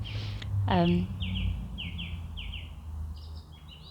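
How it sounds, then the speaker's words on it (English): A song thrush sings outdoors in a short run of repeated bright phrases with clear pauses between them, heard at middle distance over a steady low background rumble. "this lovely song thrush who's been singing away, trying out all those different sort of phrases of songs, as song thrushes do."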